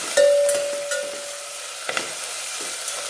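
Tomato, garlic and ginger sizzle softly in coconut oil in a pan, a gentle steady frying hiss broken by a few light scrapes of stirring, close by with no talk.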